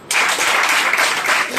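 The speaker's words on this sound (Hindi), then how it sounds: "एक बार अपने बीमारी के लिए और अपने लिए जोरदार ताली।" A crowd at a venue program breaks into loud, dense applause. The clapping starts abruptly and holds steady close by.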